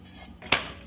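A crispy crepe flipped in a frying pan makes a single sharp metallic clank against the pan, brief and fairly close, after near quiet.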